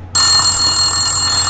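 A telephone in the Silent Hill video game starts ringing abruptly, a loud, steady electronic bell tone that holds continuously without voices.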